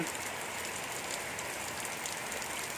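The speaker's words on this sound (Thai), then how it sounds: "วันนี้ฝนตกแดดออกครับ" Heavy rain falls steadily on a surface in a continuous, even hiss with dense patter, close and loud, with no voices.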